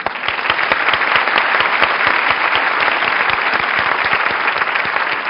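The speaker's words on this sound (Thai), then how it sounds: "วันนี้ขอเสียงปรบมือดังๆให้กับนักแสดงผู้กำกับและผู้ผลิตทุกท่าน เลยครับ" A studio audience on a Thai television variety show applauds the film's actors, director and producers: dense, loud, steady clapping from many hands that carries on without a break and with no talk over it.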